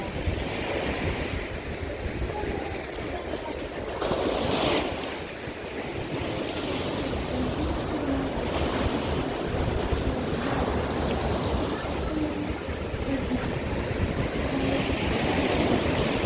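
Continuous roar of Black Sea surf breaking along a beach at Arkadia, Odesa, steady and fairly loud, with wind rushing over the microphone and occasional swells of louder wash.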